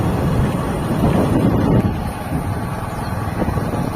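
Wind rushing past a microphone during an outdoor ride in Tamil Nadu, a loud blustery roar with vehicle rumble beneath it that eases a little partway through, with no talk.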